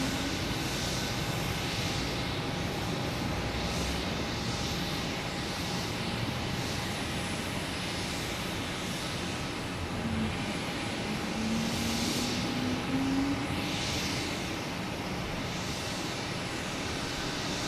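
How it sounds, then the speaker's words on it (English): A JetBlue Airbus A320 jet landing at Boston Logan airport, a steady broad engine roar at moderate distance with a faint rising whine near the end, with no talking. "And a JetBlue landing from Charleston."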